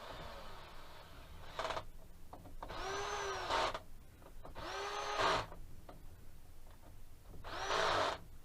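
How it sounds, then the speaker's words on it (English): A power drill with a 10mm socket on low torque whirs in three separate bursts, each rising in pitch and lasting about a second, with quiet pauses between, fastening bolts on a Yamaha 9.9/15hp outboard motor. "I use a drill with a 10mm, low torque."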